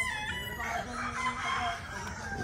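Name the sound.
chickens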